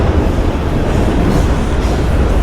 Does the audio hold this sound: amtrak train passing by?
yes